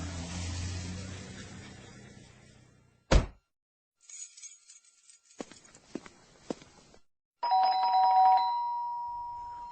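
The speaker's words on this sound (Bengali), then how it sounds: "ওই যে দরজায় কলিং বেলের শব্দ।" A sharp knock-like hit, then after a pause a doorbell chimes with ringing tones, amid soft footsteps and clatter in a quiet room.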